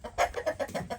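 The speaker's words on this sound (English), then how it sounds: "The chickens seem to be loving their greenhouse, or the White House as Sophia calls it." Chickens cluck in a greenhouse on a Wisconsin farm, a rapid run of about eight short, close, moderately loud clucks with no talking.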